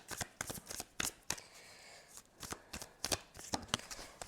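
Tarot cards shuffled by hand for drawing another card, a close series of crisp riffling slaps and flutters in uneven bursts, with no talking over them.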